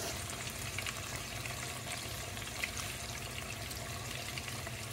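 Jumbo coconut-battered shrimp deep frying in hot oil, a dense continuous bubbling sizzle, close and steady with faint crackles throughout.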